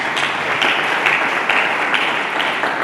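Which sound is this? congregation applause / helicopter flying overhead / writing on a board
congregation applause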